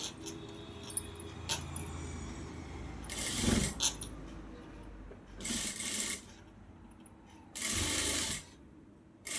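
Three bursts of a sewing machine stitching a puff sleeve, each lasting one to two seconds, with quiet pauses between them. Faint handling clicks of the fabric are heard in the gaps.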